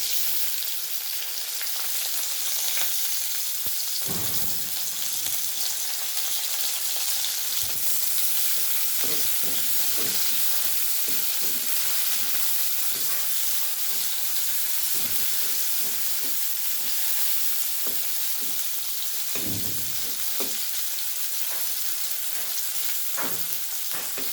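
Onions frying in a pan for fish humba, a loud steady sizzle and hiss with occasional scrapes and knocks of stirring, close and continuous, no speech.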